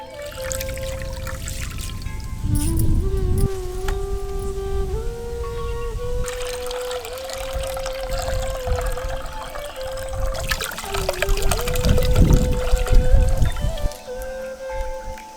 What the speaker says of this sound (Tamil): இப்ப நம்ம எடுத்த 9 இளநீர்களையும் உடைச்சு அதுல இருக்க தண்ணியவும் தேங்காயவும் தனியா சேகரிச்சு எடுத்துக்கலாம்